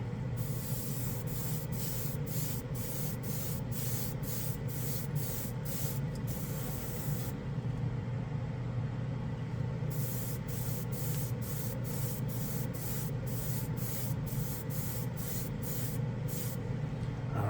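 Airbrush spraying chrome paint at about 18 to 20 psi, a steady close hiss running throughout, broken by short rhythmic bursts and pauses as the trigger is worked on and off.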